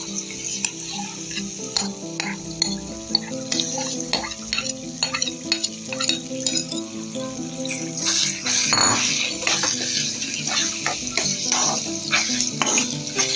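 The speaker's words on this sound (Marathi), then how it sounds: "आता तुपामध्ये चांगला भाजून घ्यायचा भिजलेला रवा।" Soaked semolina (rava) sizzles and fries in ghee in a pan while a spoon stirs and scrapes it in repeated strokes, close up and busy throughout, with no talking.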